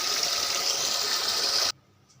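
Water gushes steadily into a vessel of foxtail millet set to soak for idli, a close, even rushing pour lasting under two seconds before stopping abruptly.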